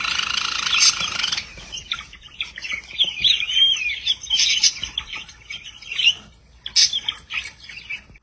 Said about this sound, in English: The Java finch or Java rice sparrow travels in groups to be fed on grass seed.